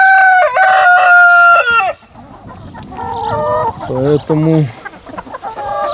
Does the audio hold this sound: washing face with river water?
no